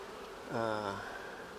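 A low, steady insect buzz swells up for about half a second, droning with a harmonic hum before fading back into a quiet background.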